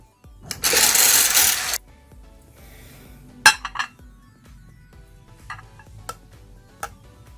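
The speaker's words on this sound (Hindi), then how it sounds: "दोबारा इसको मिक्स करूंगी।" A half teaspoon of Dove moisturising cream is mixed in a small bowl: a dense second-long burst of scraping and stirring, then scattered light clinks and taps of the utensil against the bowl, with no talking.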